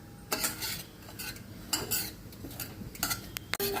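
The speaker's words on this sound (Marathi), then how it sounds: "गुलाबीसर रंग येईपर्यंत आपण रवा भाजून घेऊ" Semolina (rava) dry-roasting in a pan on low heat while a spoon stirs it, giving repeated scraping clinks and dry rustles at close range, with no voices.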